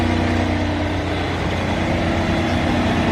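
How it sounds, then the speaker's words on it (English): Mercedes-AMG Project One with a Formula One engine and triple exhaust idling, a loud, steady, rough low rumble close up without any talk. "I will say at idle, the exhaust on this does not sound very good."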